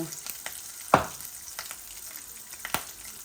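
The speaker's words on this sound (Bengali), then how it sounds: "আমি এখন অল্প একটু পাঁচফোড়ন দিব আর দুইটা তেজপাতা দিব" Panch phoron and two bay leaves hit hot oil while a Bangladeshi hilsa, eggplant and sweet potato dish is cooked, giving a soft steady sizzle with a sharp crackling burst near the start and another near the end.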